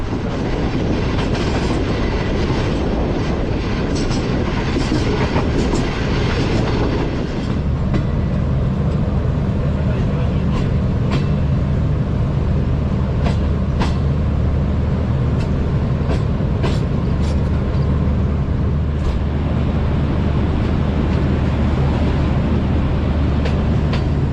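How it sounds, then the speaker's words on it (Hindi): From inside a guard compartment, a train runs through Lala Musa junction with a constant loud rumble and a rhythmic clickety-clack of wheels over rail joints, steady throughout with no talk. "ट्रेन अभी हमारी पास थ्रू हो रही है लाला मूसा जंक्शन से"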